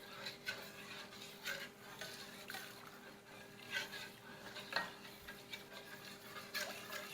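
A butter roux being stirred in a pot for boxed cheesy potatoes with bacon bits and sour cream, a spoon scraping the bottom in repeated soft swishes and light taps, fairly quiet with no talking.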